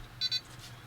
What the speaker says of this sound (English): We'll hear our tones.